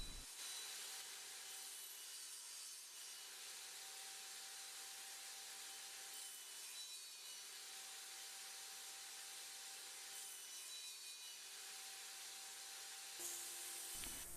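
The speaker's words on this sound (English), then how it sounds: "Continue cutting until you've removed all material between the 2 measurements." A power saw cutting repeated dado cuts into wood for a DIY magazine loader, a continuous faint hissing rasp with slow swells, heard alone without speech.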